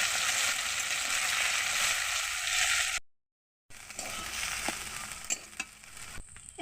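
A paste of mustard and moringa leaves fries in oil with a steady hissing sizzle, cut off by a short silent gap, then resumes with scattered clicks of stirring.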